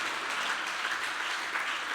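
Audience at a comedy talk event applauds an arriving guest, a full, steady roar of many hands clapping in a room, moderately loud and unbroken for the whole stretch, no voices on top.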